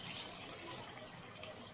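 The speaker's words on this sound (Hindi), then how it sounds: "तो अब हम इसमें थोड़ा सा पानी डालते हैं ताकि थोड़ा सा शोरबा जो वो बन सके" Water is poured into a pan of kofta gravy, a faint, soft and steady trickling splash heard close by with no talk over it.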